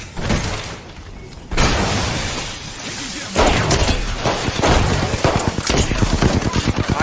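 Gunfire in a shooter video game, loud and dense rapid bursts with crashing impacts filling the whole stretch, growing busier toward the end.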